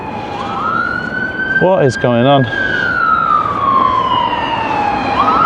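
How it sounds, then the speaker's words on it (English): A St John's ambulance siren wails up and down close by for the whole stretch in Southport, while someone briefly asks a question over it. "There's an ambulance coming through there"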